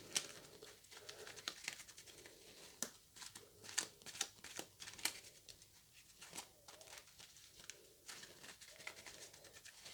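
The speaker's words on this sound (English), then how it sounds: "We've got to shuffle the target deck again, and also I've sleeved them now." Sleeved game cards from a Battle of Britain board game are shuffled close by, with quiet irregular bursts of slippery riffling and soft plastic clicks. No one speaks.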